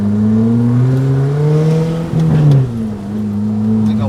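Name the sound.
Fiat Bravo stage 2 1.8 engine revving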